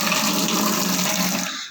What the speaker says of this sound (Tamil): கொஞ்சோண்டு தண்ணி ஊற்றி